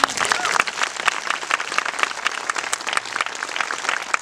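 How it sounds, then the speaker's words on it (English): An audience at a civic tribute event breaks into dense, sustained applause that fills the clip, with many hands clapping at once and a few voices mixed into the crowd. "Let's give a round of applause"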